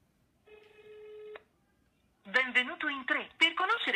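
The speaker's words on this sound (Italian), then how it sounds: "andiamo un attimo qui a chiamare il 133" An iPhone 6S on speakerphone calls the 133 service line. A single steady call tone plays for about a second, then after a short pause a recorded voice begins speaking.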